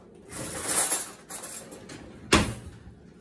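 Kitchen drawer rummaging and a spoon being fetched: a few scattered metallic clinks and rattles of cutlery and dishes, close and moderately loud, ending with one sharper clatter.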